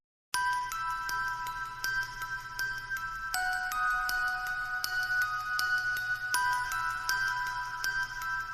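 A mobile phone ringtone plays loudly and continuously, a bright repeating electronic melody with shifting notes that starts abruptly and carries on alone without any talk.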